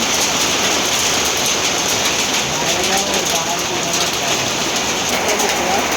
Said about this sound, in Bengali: বড় বড় শিল পড়ছে